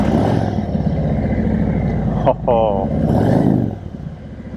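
A red Harley-Davidson Street Glide with chrome Cobra exhaust pipes rumbles steadily at close range, its low, even engine drone running the whole time beneath a voice, with a brief swell partway through.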